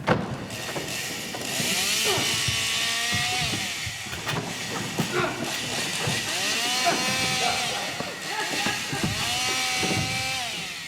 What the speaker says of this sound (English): Put the chainsaw down, Columbus.